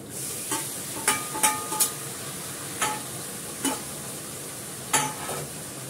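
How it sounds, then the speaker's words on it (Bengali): Meat sizzles in a pan of fried onions, with a steady hiss under scattered scrapes and clacks of a stirring spatula against the pan. "এবার মাংসটা দিয়ে দেবো।"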